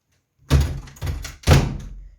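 A door in PUBG thuds three times in quick succession, dull and close, each knock fading into a short low resonance.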